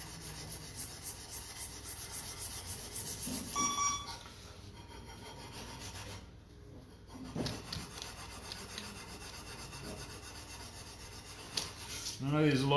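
Someone sands a dagger blade by hand with sandpaper, making repeated rasping strokes in an even back-and-forth rhythm that stops briefly midway and then picks up again, close and moderately loud.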